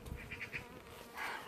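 Honey bees buzz around an opened hive, a faint, close, wavering drone with brief higher whines from individual bees passing near.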